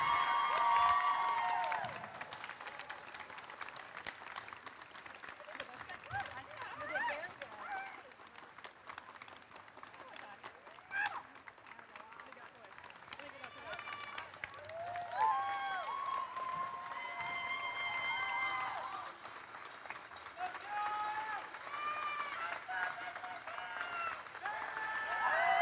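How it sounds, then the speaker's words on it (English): An audience at a girls' robotics competition applauds in a long, steady wash of clapping, with scattered whistles and cheers rising over it, heard from a moderate distance. "Let's get a big round of applause for Kyle Hughes from Team 27."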